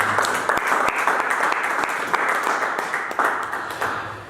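A church congregation applauding in worship of the Lord, a dense, steady wash of many hands clapping together, fairly close and continuous throughout.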